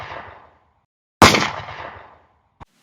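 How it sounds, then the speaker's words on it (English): A pistol shot from a duel booms loudly and decays over about a second, followed by a faint short crack; an earlier fading rumble precedes it. "the two men turned around and pulled the triggers on their pistols"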